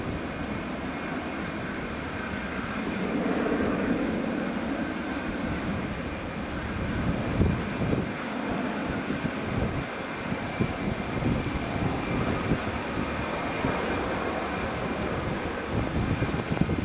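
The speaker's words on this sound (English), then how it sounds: "Norwegian's just taxiing out as well now." A Norwegian airliner taxiing out at Edinburgh Airport gives off a steady, continuous jet engine roar at moderate distance, with a faint background hum and no talk.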